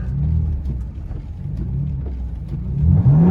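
A BMW M4 with traction control off in sport mode spins its wheels in snow during a Colorado winter storm, its engine rumbling close by and rising into a harder rev near the end.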